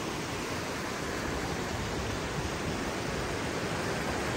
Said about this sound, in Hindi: पानी का शोर बहुत ज़्यादा आ रहा है यहाँ पे